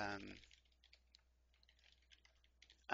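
Light tapping on a computer keyboard, quick and irregular, soft and close, with a voice briefly at the start and the end.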